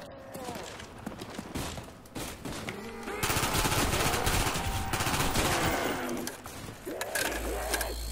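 Gunfire in Call of Duty Black Ops Zombies, with rapid automatic bursts and shots mixed with game music and creature noises, fairly loud and continuous, and someone talks over parts of it.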